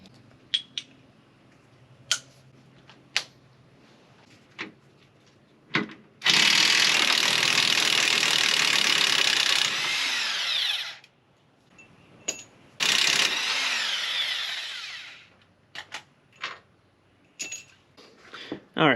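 Steering gear bolts on a Tahoe are loosened with a ratchet and a power tool: scattered ratchet clicks and clanks, then a loud sustained tool whir for several seconds, another burst, and more clicks and knocks, close by with no talk.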